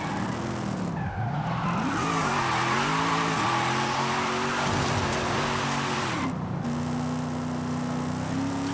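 In Forza Horizon 5, a Corvette Z06 drift build roars continuously, its engine pitch rising and falling as the revs change, while tires squeal and skid loudly throughout, with no talking.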